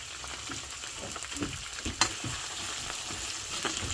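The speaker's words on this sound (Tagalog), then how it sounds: "Ilalagay na po natin yung sibuyas at saka bawang po. I-brown natin siya para lumabas yung aroma." Chopped onion and garlic browning in leftover oil in a pan for a chicken sauté: a faint, steady sizzle with light scraping and stirring clicks throughout.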